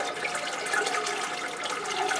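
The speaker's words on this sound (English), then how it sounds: "So I'm just going to pour some clean water through the pot." Clean water poured through a potted orchid's growing media, a steady close splashing and trickling flow that holds at an even level throughout, with no voices.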